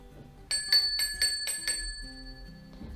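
A bicycle-style bell rings in a quick run of about six bright dings, crisp and close, then fades; a small subscribe-bell alert sound effect with no talking over it.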